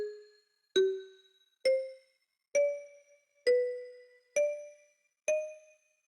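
Slow puzzle melody from Roblox The Hunt: Mega Edition: seven clean bell-like chime notes, evenly spaced and each decaying quickly, rising and falling in pitch, heard alone against silence.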